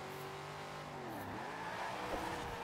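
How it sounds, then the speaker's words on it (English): A car drifting in the racing game Forza Horizon 4, with engine drone shifting pitch and a squealing, skidding tire whine, loud and continuous throughout. "We're drifting."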